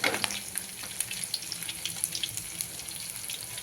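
Garlic and other ingredients are sautéed in a pan for okra tamarind curry, making a soft, even sizzle scattered with small crackles and pops, heard alone with no talking.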